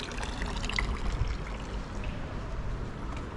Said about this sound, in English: here's another one of those water fountains you can fill your bottle up for free